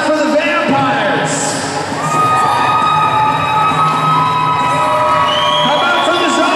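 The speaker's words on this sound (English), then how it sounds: "Can we get loud for the Vampires?" Loud crowd cheering and whooping for the Vampires at a roller derby bout between Zombies and Vampires, a sustained roar of shouting and high-pitched screams filling the venue with no break.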